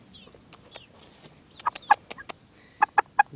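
Chickens on a poultry farm, including a mother hen with newly hatched chicks, give short clucks and sharp peeps in scattered bursts, fairly close over a quiet background.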